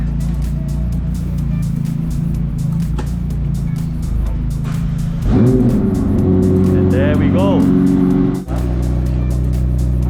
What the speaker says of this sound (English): What you're hearing is a 4-litre twin turbocharged V8 that sits right in the middle here